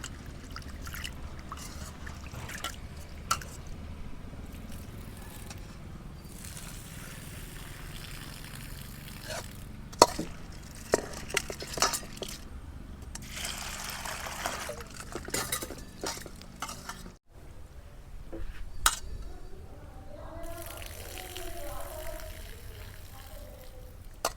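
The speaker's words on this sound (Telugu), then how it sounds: "ఈ పప్పుని ఒక రెండు సార్లు కడుక్కుంటే మనకి ఈ పైన మనకి డస్ట్ గట్ట ఉంటే పోతుంది రెండు సార్లు కడుక్కోవాలి శుభ్రంగా" Dal lentils for a moringa leaf dish are rinsed twice in water in a pot, with soft sloshing, trickling and dripping, occasional clinks of the vessel and stirring, close and fairly quiet throughout.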